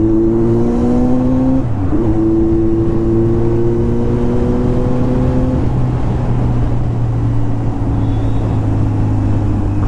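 Kawasaki Z900 motorcycle exhaust revving loudly up close, a deep droning engine note with rising and falling pitch sweeps as the throttle is worked, then holding a steady growl.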